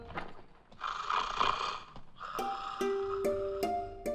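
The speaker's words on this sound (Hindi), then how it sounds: "सुबह हो गई और अब तक खर्राटे मार रहा है" Man snoring while asleep in the morning, a steady run of loud rasping breaths with a clear repeated rhythm, alone without talk.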